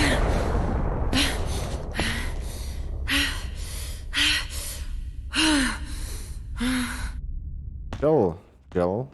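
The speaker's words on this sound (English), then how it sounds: "She's breathing like that for a boulder." Jill in Resident Evil HD Remaster breathes heavily in repeated loud, close sighs and gasps, each breath separated by short pauses, ending in a couple of sharp strained gasps.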